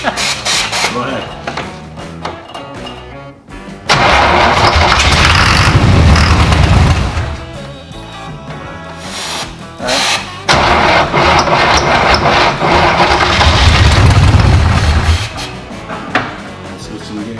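A street-raced 1963 Corvette V8 with its ignition timing set too far retarded fires up, then roars in two long, loud bursts of revving separated by a rougher, lower idle, close to the listener.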